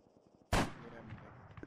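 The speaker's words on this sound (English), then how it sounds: "See, I'm shooting through the armor on purpose." A single loud sniper rifle shot in Arma 3 cracks out sharply, then rings off in a long fading echo, with faint game ambience before it.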